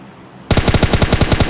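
After a half-second lull, loud rapid automatic gunfire erupts in PUBG Mobile Lite, a close, continuous burst of evenly spaced shots.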